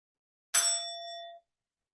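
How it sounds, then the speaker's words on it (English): A single bell struck once in an aikido class, a clear bright ding that rings on and fades out within about a second, heard alone. "then the next bell will come"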